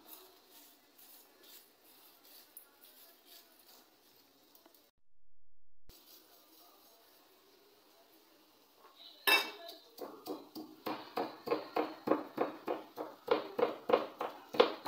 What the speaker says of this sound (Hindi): रोस्ट करने के बाद इन्हें मैं मोटा मोटा कूट लूंगी।